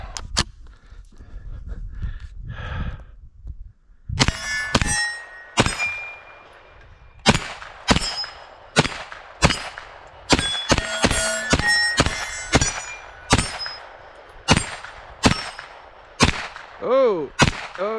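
A Marlin Camp Carbine Model 9 rifle fed from a 32-round Pro Mag magazine fires a string of loud, sharp, close shots at an uneven pace, with metallic rings and pauses between some of them.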